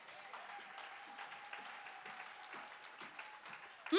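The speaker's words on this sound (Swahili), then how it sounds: "mpe bwana makofi yanayostahili" A church congregation gives sustained applause, a steady wash of clapping lasting several seconds with a faint voice at the very end.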